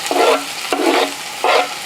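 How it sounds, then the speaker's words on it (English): Food sizzles in a hot pan in three short bursts, like chopped onion hitting oil and being stirred, with quieter crackling in between. "I'm adding onion to a frying pan."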